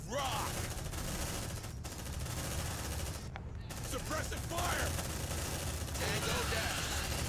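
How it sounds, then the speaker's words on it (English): Sustained suppressive gunfire in the sci-fi game Aliens: Dark Descent, a continuous rattling fusillade of rapid shots with short pauses, mixed with voices and game sounds. "Suppressive fire!"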